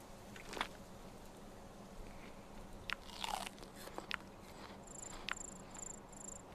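Crunchy chewing and biting in the survival game Survival: Fountain of Youth, a few separate crisp bites spread over several seconds against a faint steady hum, with a short chiming tone near the end.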